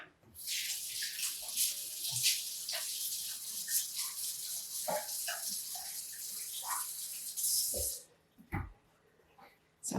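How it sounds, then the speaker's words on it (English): Tap water runs steadily as hands are rinsed in a kitchen sink while making Easter bread, a continuous close splashing for about eight seconds before the flow stops, followed by a few faint clatters. "Rinse my hands off."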